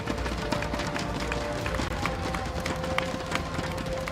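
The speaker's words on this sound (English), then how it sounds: "once more, a round of applause for RSG SG for their valiant performance" An arena audience at the MPL SG Season 7 Grand Finals applauds team RSG SG, a steady, even wash of clapping and crowd noise heard from some distance, with faint talk underneath.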